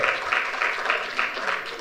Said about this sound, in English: Another round of applause for Mr. Elise, please